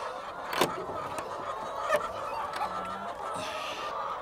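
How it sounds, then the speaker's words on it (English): Laying hens on a farm cluck and murmur steadily close by, with a few sharper squawks standing out over a busy coop background. "I decided to have a quick look at Anna's chicken"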